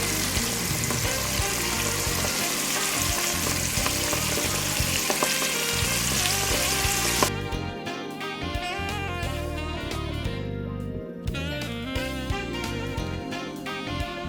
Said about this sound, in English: Then I put them in a bag with cornmeal, shook them up, and it just takes a few moments for them to fry.